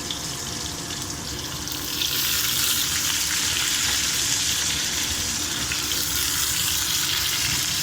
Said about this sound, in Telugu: ఇప్పుడు మనం ఉల్లిగడ్డలు వేసుకుందాము